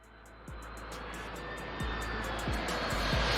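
A Dassault Rafale French fighter jet passes with a broad, rising engine roar that swells steadily toward the end, heard from a distance without voices.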